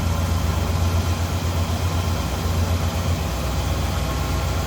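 The 400 engine of a 1970 Pontiac Catalina convertible idles with a steady, low, even rumble heard close up, with no voices.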